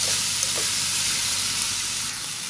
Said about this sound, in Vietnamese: Bây giờ mình sẽ xào cho nó chín nha các bạn.